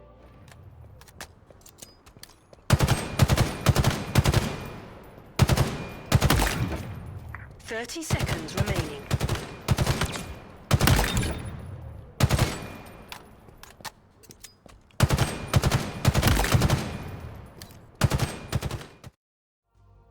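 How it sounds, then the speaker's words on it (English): BR battle rifle firing in Halo Infinite, loud three-round bursts repeating in clusters with short gaps and sharp impact cracks, under a brief in-game announcer line and occasional talk. "please, let's just listen to how this thing sounds"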